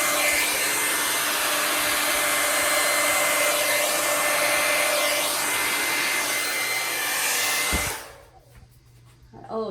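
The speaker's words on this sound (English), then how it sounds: "Always get my hair dryer in the paint." A hair dryer drying freshly poured paint on a flip cup craft project, blowing loud and steady at close range for about eight seconds before cutting off abruptly, leaving a faint hum.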